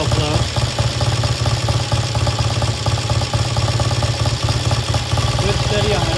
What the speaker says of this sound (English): Good steady idle.